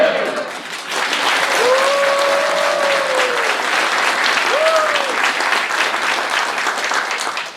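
Loud, sustained applause from a sizable audience at a Korean book launch event, clapping steadily for several seconds with a few vocal whoops rising over the crowd.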